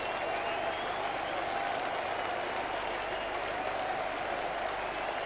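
Sustained applause from a cricket crowd at the 1997 England versus Australia Test, marking Nasser Hussain's century, a steady distant wash of clapping.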